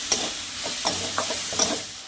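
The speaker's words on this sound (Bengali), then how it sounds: "এবার মশলাটা ভালো করে কষিয়ে নেব।" Spice masala with turmeric and salt stir-fried in a pan for a vegetable dal: a soft background sizzle broken by four or five spoon scrapes and stirring knocks, close and fairly quiet, no voices.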